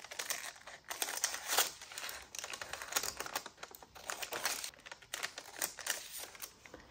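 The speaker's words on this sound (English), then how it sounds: "I've learned the best way to cut out circles is to first cut these pie shapes from the middle to the edge of your circle." Scissors snip through paper while cutting circle shapes for a junk journal, a steady run of short crisp cuts and light rustling close by, with no talking.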